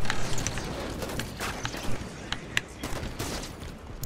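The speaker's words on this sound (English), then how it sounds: "This assault rifle is rough." Assault rifle fire in the Halo 5 video game on Legendary difficulty, a run of quick, sharp shots crackling over a busy game mix with footsteps, fairly loud and close throughout.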